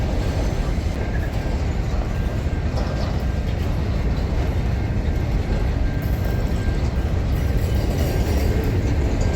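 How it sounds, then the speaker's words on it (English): An SCT freight train of 3,000 to 5,000 tonnes, hauled by four locomotives, passes through the loop at Tailem Bend on its Perth to Melbourne run, making a loud, steady, continuous rumble that fills the whole stretch. "It's got 4 locomotives pulling it, so you'd think she'd be able to carry a fair bit."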